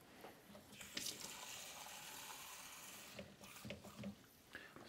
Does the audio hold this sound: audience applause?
no